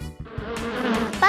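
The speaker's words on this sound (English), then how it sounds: "A bee makes a buzz sound." A bee gives off a continuous droning buzz that stays steady and fairly close, heard alone for a little over a second.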